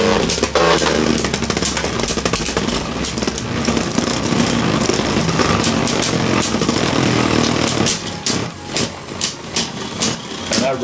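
Beyblade Burst tops launched from a high-speed rev-up launcher spin and clash in a stadium, a loud continuous whirring grind dense with rapid metallic clicks, easing into sparser knocks and rattles near the end.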